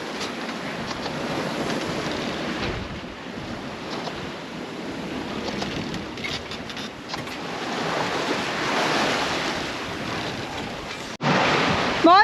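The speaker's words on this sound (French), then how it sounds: "il y a des belles vagues" Sea waves rush and slosh continuously against a sailing boat's hull off the French coast near Le Havre, mixed with steady wind buffeting the microphone, with a louder gust at the very end.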